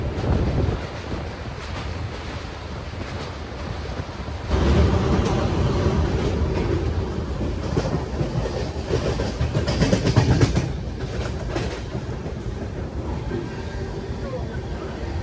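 The Mumbai Delhi YUVA AC superfast express train runs at high speed near the Narmada river crossing, with a loud continuous rumble and clickety-clack of wheels, swelling midway, and a voice talks over it.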